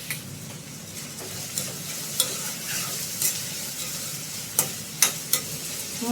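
Small onions, garlic, fenugreek and curry leaves fry for fish curry in a steady, busy sizzle, with scattered sharp clicks and scrapes of a spoon stirring the pan. No one speaks.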